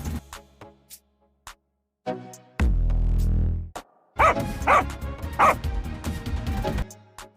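A dog barks at armed robbers on a street, letting out loud, close bursts of barks and sharp yips with short pauses between them.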